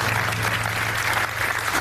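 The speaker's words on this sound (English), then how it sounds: "very tardy applause there" A game show studio audience claps in a short, moderate burst of applause, steady and unaccompanied by speech, with a low hum underneath.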